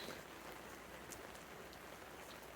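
Soft, steady patter of rain falling on an outdoor campfire, with a faint crackle of the fire beneath, quiet and continuous throughout.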